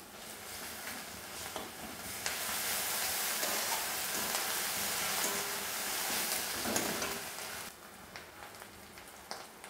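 Onions sizzle steadily in a hot pan as ginger paste goes in, a dense frying hiss swelling in the middle with scattered stirring scrapes and ticks, then easing back to a softer crackle.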